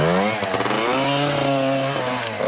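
A Beta EVO 80 Jr trials motorcycle engine revs hard in first gear and winds out quickly, its pitch climbing and falling in a rapid burst, loud and close.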